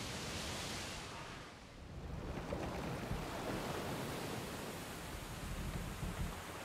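Ocean waves at sea in Pillars of Eternity II: a steady, broad wash of surf and wind fills the scene, swelling and receding gently, fairly soft and continuous with no talk.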